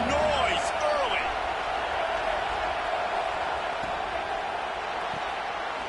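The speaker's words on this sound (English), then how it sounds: "This crowd bringing the energy and noise early." Stadium crowd at a football game roaring steadily as a continuous wash of cheering and noise, with a play-by-play announcer talking over it.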